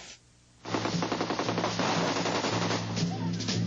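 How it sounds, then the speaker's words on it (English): AK-47 assault rifle fire from a war movie scene bursts in after a brief quiet moment, a loud rapid stream of automatic shots with a steady rattling rhythm lasting several seconds. "This is the AK-47 assault rifle, the preferred weapon of your enemy, and it makes a distinctive sound when fired at you"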